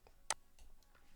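A single sharp computer mouse click, close and quiet, followed by faint softer ticks in a hushed room.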